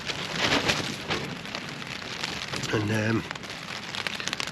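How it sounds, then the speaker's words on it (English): Rain beats on surfaces outside while gale-force wind roars in a steady, broad wash. Someone speaks briefly over it. "Gale force winds, rain. It's getting there now, as you can hear."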